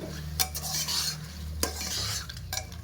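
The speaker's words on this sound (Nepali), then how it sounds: "अब चाहिँ यसलाई पनि मजाले फ्राई गर्नुपर्छ।" Goat meat frying in a pan with turmeric and spices, stirred with a utensil that scrapes and clinks against the metal over a steady close sizzle, with no one talking.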